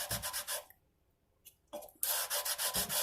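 Sandpaper rubbing across banjo frets to level them, rapid back-and-forth scraping strokes in two bursts separated by a short pause, close and crisp.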